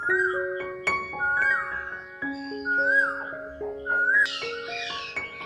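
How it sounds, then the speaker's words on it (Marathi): An Asian koel calls repeatedly in a park, rising whistled notes spaced a second or so apart, with other bird chatter around it. "कोकिळेचा आवाज खूप सुंदर येतो।"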